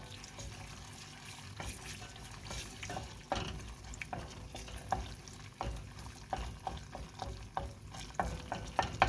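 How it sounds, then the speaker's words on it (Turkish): Tomato paste being stirred and fried in a pan while cooking a Turkish guest menu, heard as close, scraping strokes with an irregular rhythm and a light sizzle underneath. Louder clacks of the spoon against the pan come through now and then. "Evet arkadaşlar şimdi şöyle güzelce şunu salçamızı kavuralım"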